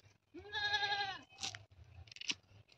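A goat gives one long, clear bleat up close, followed by a few short clicks and knocks in an otherwise quiet setting.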